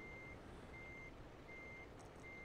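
Steady, evenly spaced reversing beeps from a truck in American Truck Simulator, repeating tones over a constant low engine rumble, moderately distant and without talk.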